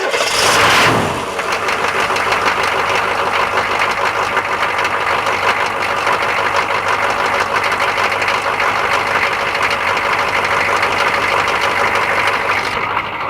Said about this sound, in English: Crank her up because you've been patient. Plus I want to clear the diesel fuel out of the cylinders.